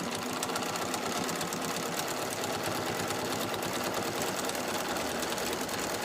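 A sewing machine stitching fabric down to flatten it, a steady continuous close mechanical whir with rapid needle ticking throughout and no talk.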